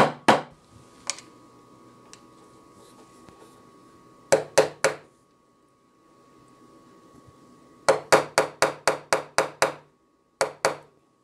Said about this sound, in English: And now I can go around and set my nails.